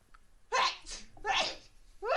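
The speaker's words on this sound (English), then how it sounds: "I think I'm going to sneeze." A single loud, sharp human sneeze bursts out close by, preceded by a short in-breath and followed by further vocal sounds from the same person.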